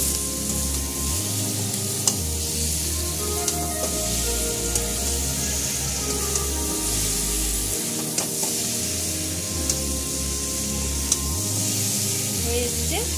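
Fish curry (amodi macher kaliya) sizzles loudly in a pan as sauce is added and stirred, a constant hiss of frying with occasional clinks of a spoon against the pan.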